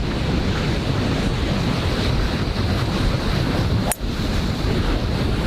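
Ocean surf rolls against the shore beside a golf course, a continuous loud wash of breaking waves heavily mixed with wind buffeting the microphone, with one brief sharp knock near the end.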